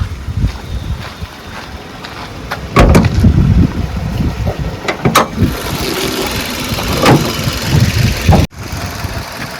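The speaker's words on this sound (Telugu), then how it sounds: "ఇప్పుడు ఇంజన్ స్టార్ట్ చేసిన, ఇంజన్ ఆన్లో ఉంది." Engine of a 2019 Maruti Nexa Baleno Alpha hatchback idling with the bonnet open, a steady close rumble with occasional clicks and knocks over it, no talking.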